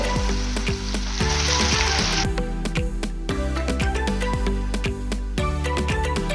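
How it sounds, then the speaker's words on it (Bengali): A paste of cashew, poppy seed and fennel frying with spices in a kadai for a Bengali doi katla fish curry, a steady close sizzle with repeated stirring clatter and scraping throughout, no voices. "মশলা ভালোভাবে ভাজার পর এরপর আমি কাজু, পোস্ত এবং মৌরির যে পেস্টটা করে রেখেছিলাম সেটা দিয়ে দেব"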